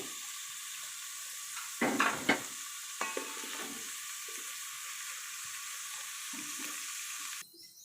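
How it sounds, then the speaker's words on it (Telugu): Quiet, steady sizzle of food frying gently in a pan, with a few louder stirring scrapes near the start and mid-clip. "లైట్గా ఫ్రై చేసుకోవాలి ఇలా లైట్గా ఫ్రై చేసుకుంటే సరిపోతుంది"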